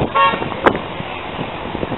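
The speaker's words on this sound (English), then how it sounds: "Honk if you love Jesus." A car horn gives one short, sharp honk on a city street, heard over steady traffic noise and outdoor background hubbub.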